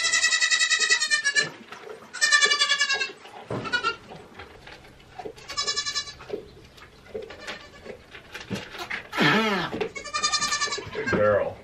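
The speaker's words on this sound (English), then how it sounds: "Noisy here in the morning, guys. We got the baby goats going." Baby goats bleat repeatedly in high, wavering cries, several calls in a row at close range on a morning farm, with brief quiet gaps between them.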